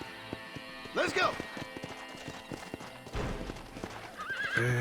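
Horse in Red Dead Redemption whinnying and clip-clopping on hooves, a neigh rising near the start and steady hoofbeats through, with game music and a voice over it.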